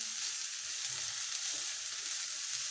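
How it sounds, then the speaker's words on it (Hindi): Vegetables for a chicken and vegetable sandwich fry in a pan with an even, continuous bright sizzle, close and steady, with no voices. "सिर्फ हमने इसको जस्ट 2 से 3 मिनट इसको हम सिर्फ फ्राई करेंगे"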